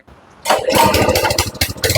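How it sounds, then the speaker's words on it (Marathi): A gear-drive HTP spray pump engine starts after a quiet moment, bursting into a loud, rapid, chugging run that continues to the end. "आता मशीन चालू झालेलं आहे"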